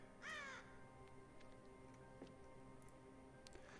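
A single loud raven caw bursts out early in a horror exploration game set in a cursed forest, then fades to a quiet ambient hum with faint ticks.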